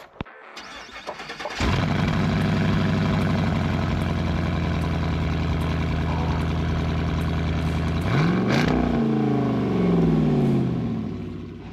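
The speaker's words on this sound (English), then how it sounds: "I'll start up the Morrflate and let's see what it's gonna do." A Morrflate Ten Six tire inflator starts up beside a vehicle on 40-inch tires, jumping from quiet to a loud, steady motor and compressor drone with a rising pitch sweep near the end.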